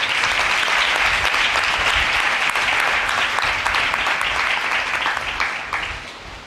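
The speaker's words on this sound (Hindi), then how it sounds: "ऐसे खुदा के लिए जोरदार तालियां बजाएं" A church congregation breaks into loud, sustained clapping during a sermon, a dense wash of hands that holds steady and then fades out over the last second.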